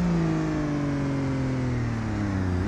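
A BMW E30 engine in BeamNG.drive drones loudly and continuously while drifting, its tone sinking gradually as the revs fall before picking up slightly at the end.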